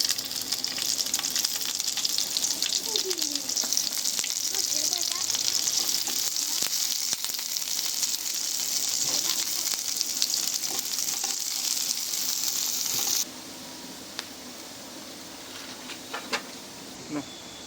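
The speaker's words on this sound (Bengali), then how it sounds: "এই পেঁয়াজ কুচিগুলো আমি এর মধ্যে দিয়ে দেবো" Chopped onions frying in hot oil for a pumpkin-leaf dish give a steady, loud, close sizzle with fine crackle throughout, the hiss dropping noticeably in level toward the end.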